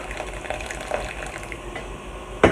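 Boiling water poured from above onto turmeric-coloured rice in a pot, a short steady splashing gush with a louder splash right at the end.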